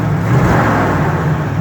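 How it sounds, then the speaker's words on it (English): A 1962 Chevy II Nova convertible's V8 with a mild cam and automatic transmission runs close by, a loud steady low rumble with an even idle throughout the short stretch. "You can tell it's got a mild cam in it, but what's pleasant about it is it's actually drivable, and the motor's actually very quiet."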